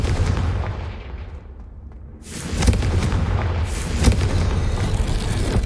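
Confringo blasting spell from Hogwarts Legacy erupts as a sudden booming blast, followed by a sustained roaring rumble with a second sharp impact shortly after, loud and close with no talk.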